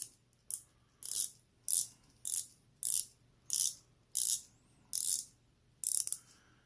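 The unidirectional bezel of an Aragon Millipede Rotator 48mm watch is turned step by step. It gives about ten crisp, close ratcheting clicks at an even pace, with short silent gaps between them and no voices.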